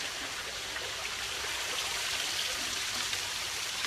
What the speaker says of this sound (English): best waterfall.